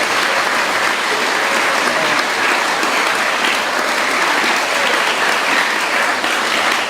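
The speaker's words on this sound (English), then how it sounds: "So another round of applause for Faleata College." Sustained applause from a crowd honoring Faleata College at a school event in Samoa, a dense, steady clapping that stays loud and even throughout with no talk over it.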